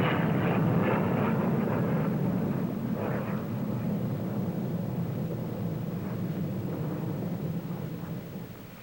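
A huge Handley Page Victor bomber rolls through aerobatics at the Farnborough air show, its deep, continuous jet roar loud and steady throughout, fading slightly toward the end.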